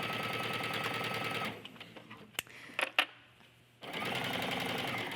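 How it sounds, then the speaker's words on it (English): A sewing machine stitches a skirt seam in two steady, dense running bursts at the start and end, with a quieter pause in the middle holding a few sharp clicks. "Using those lines on your machine is an excellent way to make sure that you're stitching straight"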